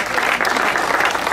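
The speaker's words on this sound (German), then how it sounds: "riesen Applaus" A crowd at an award ceremony for the Burgenland cycling days in Bad Tatzmannsdorf gives a short, loud burst of applause. The clapping is close and dense and runs steadily through the whole moment.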